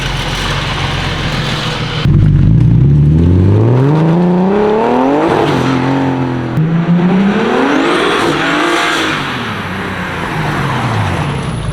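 Loud car engine on a dyno revving up and down in long rising and falling sweeps, the pitch climbing steeply several times with brief drops between pulls, close and alone without talk.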